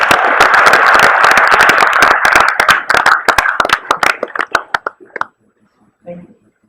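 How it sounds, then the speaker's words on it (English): Applause from an audience welcoming a speaker to the stage at an alumni presentation, a dense burst of clapping that thins out and fades after about five seconds, followed by near silence and a faint bit of movement. "So please give him a round of applause and welcome to the stage."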